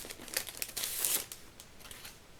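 Plastic packaging around a stamp and die set crinkles and crackles up close in short bursts as it is opened, loudest in the first second, then a few fainter rustles, with no voices.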